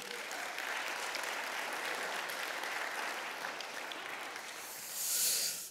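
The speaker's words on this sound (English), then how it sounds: "give the Lord a big hand clap" A church congregation applauding with hand claps, a dense steady wash of many hands clapping for several seconds that swells slightly near the end, with no talking.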